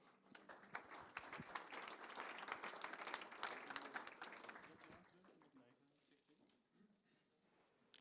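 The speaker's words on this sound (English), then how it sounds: "Let's give a warm applause for Bas and Julian" Faint applause from an audience at a small tech meetup, clapping swelling over the first few seconds and then dying away, with a little murmur of voices underneath.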